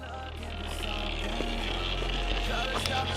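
A small moped engine, a 50cc machine on a long road trip across France, idles with a steady low drone after repair. Wind buffets the microphone, and faint voices sound nearby.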